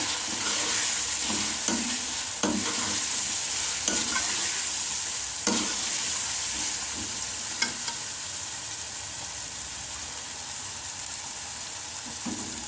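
A pan of palak gosht with turmeric added sizzles steadily in hot oil, while a spoon stirs and scrapes the pan in irregular knocks every second or two, close and clear with no speech.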